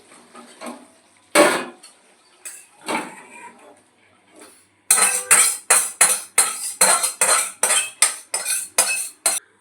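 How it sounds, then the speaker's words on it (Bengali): Bhetki fish bone curry (kanta chorchori) is spooned from a pan into a bowl after the gas is turned off, making a quick series of close, rhythmic metal scrapes and clinks with no talking. "গ্যাসটা এবার বন্ধ করে দিলাম, দিয়ে একটা পাত্রের মধ্যে আমি ঢেলে নিই।"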